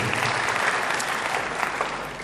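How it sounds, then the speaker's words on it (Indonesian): Loud, sustained applause from a large church congregation, dense clapping that continues steadily throughout without talking over it. "Tepuk tangan yang paling meriah buat Tuhan."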